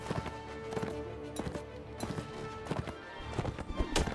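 A horse in Mount & Blade Warband gallops with rhythmic clip-clop hoofbeats at a quick, uneven pace, moderately close and fairly quiet, with the odd louder thud.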